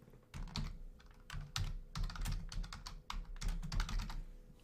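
Rapid, irregular keystrokes clatter on a computer keyboard in quick bursts with brief pauses between them, close and clear with no one speaking.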